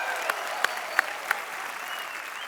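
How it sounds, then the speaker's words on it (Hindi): A studio audience on a comedy talk show breaks into steady, moderately distant applause, a dense wash of clapping hands with a few sharper claps standing out. "एक बार फिर से तालियां बनती हैं।"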